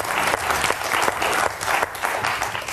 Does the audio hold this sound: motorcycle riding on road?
no